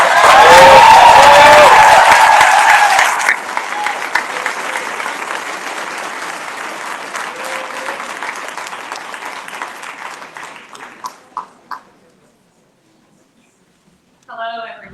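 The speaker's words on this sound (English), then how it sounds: "Let's give her a round of applause" Applause from a rally crowd in support of a union treasurer from a federal employees' local: loud, dense clapping for about three seconds, then thinning to scattered claps that fade to silence, with a voice starting at the end.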